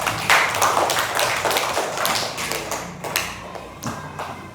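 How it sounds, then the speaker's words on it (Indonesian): A group of students claps hands together in a classroom, with sharp, quick slaps forming a loose, fairly steady rhythm for a few seconds. The clapping sounds close and fairly loud, with no talking over it. "Tepuk tangan buat kita semua."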